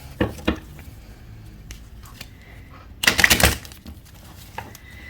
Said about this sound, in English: let's give it a good shuffle and see what we get